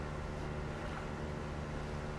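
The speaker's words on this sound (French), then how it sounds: "d'abord, le radeau à moteur." A motorized raft's engine drones in the video game ARK, a steady, even hum with a faint watery wash, unbroken and without talk.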